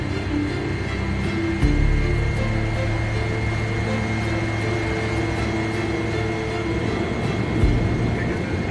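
A Qantas long-haul airliner being pushed back from the gate gives off a steady, loud engine and ground-equipment roar with a constant droning hum, while a voice talks over it.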